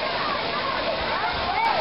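Rushing water at a water park attraction at Castle Park, a loud continuous splashing roar like a waterfall with voices talking over it.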